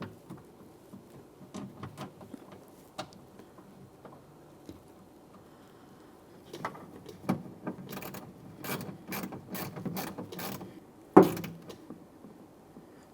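A hand ratchet clicks in quiet bursts while tightening the forward mounting bolt of an exterior door handle on a 2011-2021 Jeep Grand Cherokee, with sparse clicks early, then a denser run of rapid clicks and a sharp knock near the end.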